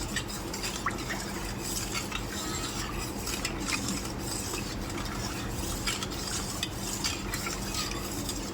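Sugar is stirred into thick, reduced milk in a pot for a kharvas-style dessert, producing a continuous scraping swirl with small metallic clinks throughout.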